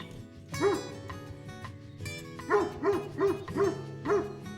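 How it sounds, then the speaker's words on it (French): A lone dog along the Vézelay pilgrimage route in France keeps barking, two early woofs followed after a pause by a quick run of five loud, close barks. "2 minutes plus tard, il aboie encore."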